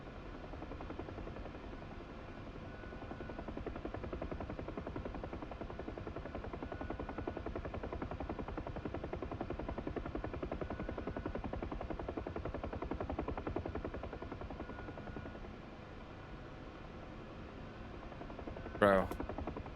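The chopping drone of a Huey helicopter runs continuously in a video game flight sim, a steady rotor thrum at moderate level that eases slightly near the end before a brief sharp click.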